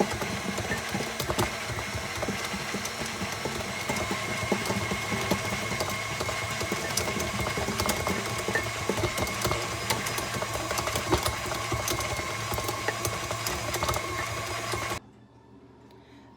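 An electric mixer whirs steadily for about fifteen seconds, beating cold, hard butter for vanilla French macarons, with a rattling motor drone, before cutting out abruptly to near silence.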